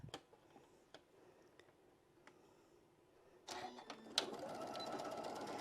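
A sewing machine begins stitching a quarter-inch seam on fabric for a bunny template after a few soft ticks and clicks, then runs loud and steady with a continuous whirring chatter.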